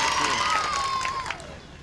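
Audience clapping at a mushaira poetry gathering, a dense wash of applause that fades out after about a second, with a voice speaking over it.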